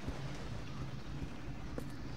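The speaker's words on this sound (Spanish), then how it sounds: "La intensa lluvia está dejando paso a un chaparrón" Heavy rain pouring in the Resident Evil Zero video game, a steady dense broadband hiss with a low rumble underneath, continuous and even throughout with no voices.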